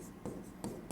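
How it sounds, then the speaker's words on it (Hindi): Chalk or marker strokes on a board during a physics lecture, three quick scratchy marks in an even rhythm, close by, with no talk. "तो पहले तो मैं यहाँ पे लिख देता हूँ"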